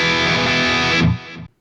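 A distorted electric guitar chord through a ToneX capture of a Mesa Boogie Stiletto amp rings out loud and sustained, then cuts off abruptly after about a second and a half.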